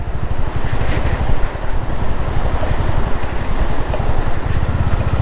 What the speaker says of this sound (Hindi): खतरनाक फ्लो है पानी का।